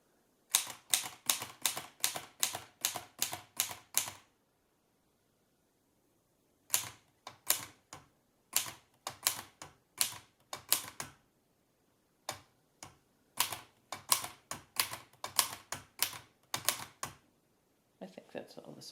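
An Erika 5 typewriter clatters through a typing test, with quick runs of sharp key strikes in several bursts separated by pauses and a final bell-like return near the end. The typing is close and loud, with no talk over it.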